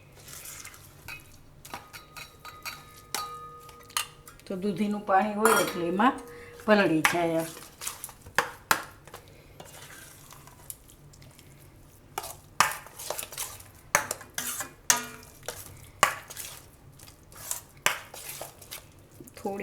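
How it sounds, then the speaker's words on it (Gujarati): Semolina being stirred into grated bottle gourd batter for dudhi uttapam, a spoon scraping and clinking against a steel bowl in uneven bursts, close by, while someone talks over much of it. "હવે આમાં આપણે નાખી દઉં આ રવો. ને મિક્સ કરી લઉં."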